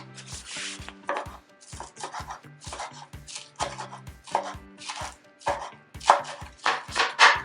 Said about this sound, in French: je vais préparer les fines herbes. Je vais les découper.